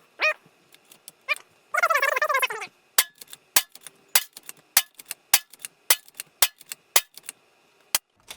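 A Diana Outlaw .25 caliber air rifle fires repeatedly at a zombie target: around fifteen sharp, dry cracks in a steady succession, preceded early on by a brief warbling, voice-like burst.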